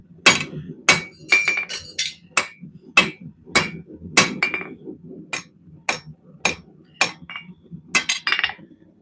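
Hand hammer striking hot steel, about a quarter inch thick, on an anvil in a blacksmith shop: loud, sharp ringing blows in a steady rhythm, roughly a dozen strikes, each followed by a short metallic ring over a low background rumble.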